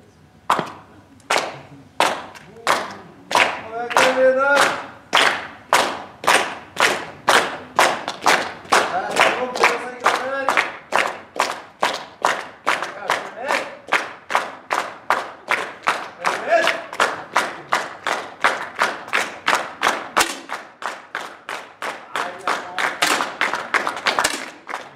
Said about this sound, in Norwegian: En liten applaus på Kristoffer Sandvold der